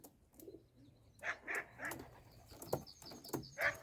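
Sport pigeons, a mated pair, call softly with cooing and bird chirps in short bursts, fairly close and over a quiet room background.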